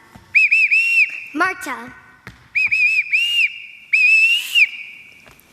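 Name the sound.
whistle signals calling children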